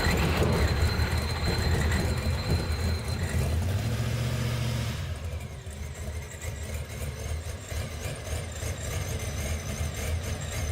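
A 1969 Dodge Challenger muscle car's engine rumbles loudly with a deep low drone, shifting pitch midway before easing to a quieter, rougher idle-like tone; no talking.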